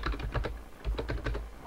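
Fast typing on a computer keyboard, a close, quick patter of key clicks in short irregular bursts, no voices.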